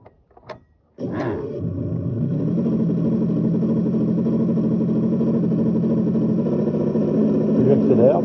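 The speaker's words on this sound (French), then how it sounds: "Plus j'accélère, bien évidemment, plus le moteur fait du bruit." Model boat with a V8 diesel engine sound unit running in reverse, starting abruptly after a short silence and holding a loud, steady low rumble with harmonic throb, near and alone.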